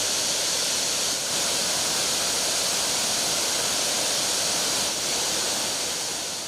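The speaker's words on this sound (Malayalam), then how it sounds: "പാറക്കെട്ടുകളിൽ തല്ലി നുരഞ്ഞൊഴുകുന്ന ആറ്റുകാട് വെള്ളച്ചാട്ടം കാണാം" Attukad waterfall in Munnar, Kerala, near Pallivasal among tea gardens and hillsides, roars as water crashes over rocks: a loud, steady broadband rush heard alone without any voices.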